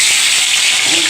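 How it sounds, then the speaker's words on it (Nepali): Onion hits hot oil in a pan and sets off a loud, dense, close sizzle that hisses evenly through the whole short moment, with no talking over it. "म प्याज हाल्छु फर्स्टमा।"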